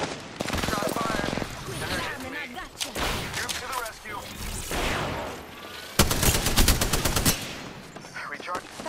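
Rapid automatic gunfire in the Apex Legends battle royale game, with dense bursts and a sharp volley near the end, while voices talk over the shooting.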